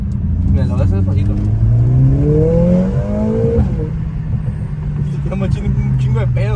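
A car engine revs up and down loudly and close by, its pitch rising and falling, with voices talking over it.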